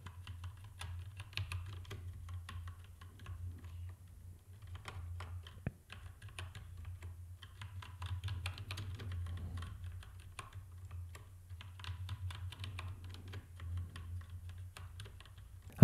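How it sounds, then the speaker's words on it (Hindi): Steady computer-keyboard typing during a typing lesson, with continuous rapid key clicks at an even pace throughout, close and moderately loud, with no voice. "तो मैं यहाँ पे वापस सेम लेसन टाइप करता हूँ।"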